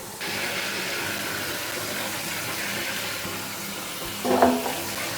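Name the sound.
rinsing air fryer basket under the sink tap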